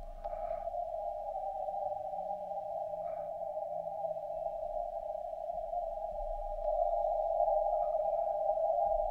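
RWM shortwave time signal heard as a steady, loud continuous tone over a hiss of radio static, with faint short pips briefly poking through now and then.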